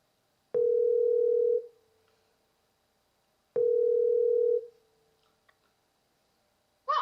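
A telephone ringback tone plays while a call is placed: two long, steady beeps about two seconds apart, clear and alone with no talking.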